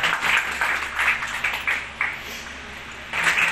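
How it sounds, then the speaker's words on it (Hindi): Sustained applause from a crowd, a steady wash of clapping that swells and dips, with a fresh burst near the end. "एक बार जोरदार तालियों से आप इनका सम्मान।"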